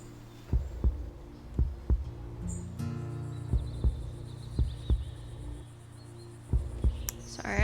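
In a video game, a slow heartbeat thumps in steady double pulses, soft and close, repeating about once a second over a low ambient hum.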